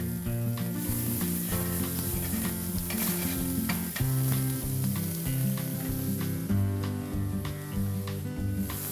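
Bacon-wrapped venison steaks sizzle loudly and steadily in a pan that is shaken around, a continuous hiss with faint stirring scrapes and music playing underneath.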